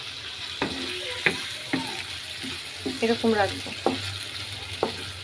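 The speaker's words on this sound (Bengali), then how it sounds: "মাছটা ছেড়ে দিলাম, এখন উল্টিয়ে দিচ্ছি" Hilsa fish sizzles and crackles in a hot pan with a little onion water, punctuated by sharp clinks and scrapes as the pieces are turned, with a brief spoken line over it.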